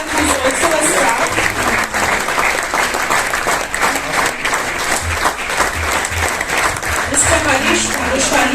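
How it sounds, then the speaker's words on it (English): An audience at a hospital event honouring platelet donors gives a long, sustained round of applause, a thick, even wash of clapping from many hands held at steady loudness throughout. "So it's a huge round of applause for them."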